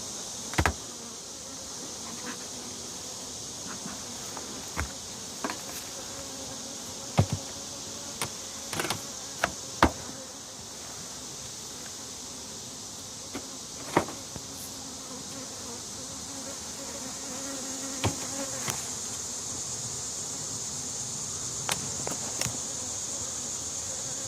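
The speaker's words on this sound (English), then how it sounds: "we're just going to go through the hive here, show you what's inside" Honeybees buzzing steadily inside an opened beehive during a hive inspection, a constant close hum with occasional sharp clicks and knocks from frames being handled.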